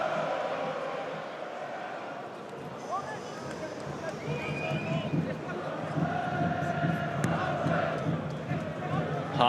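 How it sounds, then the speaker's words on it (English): Football fans in a stadium cheer after a Millwall goal against Ipswich in an English Football League match, a broad roar of crowd noise that swells steadily under a commentator's voice. "Well, their fans finally have something to cheer."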